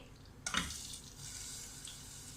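Ghee poured into a hot pan for milk Mysore pak: a sudden splash, then a steady, close sizzling hiss that lasts to the end.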